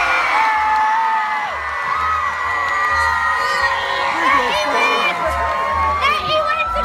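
At the Insomnia Gaming Festival in Ireland, a large indoor crowd yells and whoops together in a loud, sustained roar of shouting and cheering, with children's voices prominent throughout.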